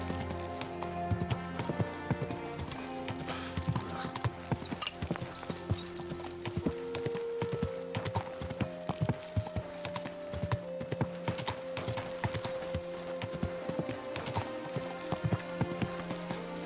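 Horse hooves clip-clop steadily at a walking pace throughout the Kingdom Come Deliverance 2 video game, close and rhythmic over soft sustained musical tones.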